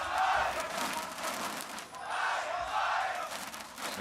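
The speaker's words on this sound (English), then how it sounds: "Crowd loves it." An esports arena crowd at a 2017 Mid-Season Invitational League of Legends play-in match roars with sustained cheering and shouting, loud and dense throughout, swelling in waves.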